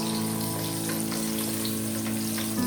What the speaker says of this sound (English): So the olive oil is hot. So we are going to put the onion, and then you are going to stir it.